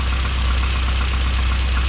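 The engine of a Triumph TR7 runs with the choke on, a loud, steady, close mechanical drone that holds an even level throughout, with no talking.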